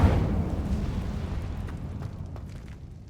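A burst of the Incendio fire spell in Hogwarts Legacy, a loud whooshing eruption at the start that fades into a dull, rumbling decay.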